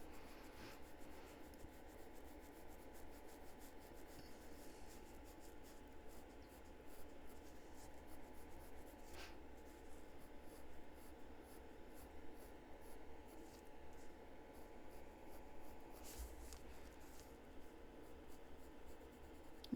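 Coloured pencil scratches softly and steadily across paper, a continuous faint dry rubbing as ivory or cream layers build up otter fur, quiet and close with occasional small taps.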